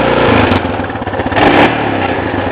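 A Honda Foreman 450ES ATV engine revs loudly and close at steady mid RPM, its drone carrying a buzzing rattle from a broken bracket, with a brief dip and surge in the middle.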